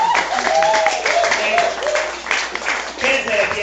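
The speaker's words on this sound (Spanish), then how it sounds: "Denle un aplauso al Señor." A church congregation applauding together, brisk clapping mixed with voices and cheers across the room.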